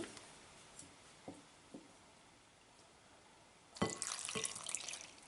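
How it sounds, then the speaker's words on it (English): Water for a panettone poolish is poured into the flour mix and stirred, starting with a few faint soft knocks and then a louder wet gush and swirl near the end. "for the rest of the Poolish you just need 1 cup of water, which we'll put in, and then we just mix it around"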